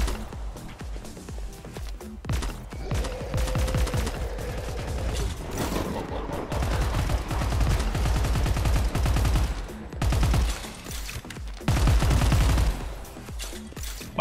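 A freeze gun firing in the video game Hellbreach Vegas, loud rapid bursts of mechanical rattling shots repeating over several seconds, with a brief tonal whine partway through.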